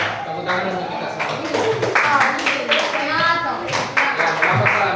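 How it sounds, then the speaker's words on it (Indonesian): A group claps hands together in a brief burst of applause in a classroom session, mixed with children's voices and chatter nearby. "Tepuk tangan untuk kita semua."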